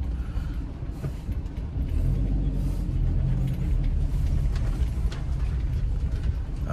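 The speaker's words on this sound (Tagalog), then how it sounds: "Bagal din naman ito tricycle." A slow tricycle's engine rumbles steadily up close with a low, throbbing drone and some rattling.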